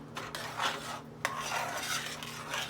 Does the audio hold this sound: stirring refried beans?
yes